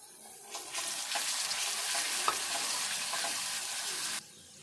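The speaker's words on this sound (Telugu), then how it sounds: "ఇట్లా గోలినాక ఈ క్యాబేజీ వేసుకోవాలి" Cabbage is tipped into a pan of frying potatoes and stirred, setting off a soft but steady hiss and sizzle that starts abruptly, holds for a few seconds, then cuts off.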